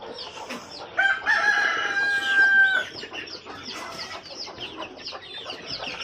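A mother hen and her newly hatched chicks in a backyard, the hen clucking loudly and continuously close by while thin high peeps and other fowl calls overlap throughout.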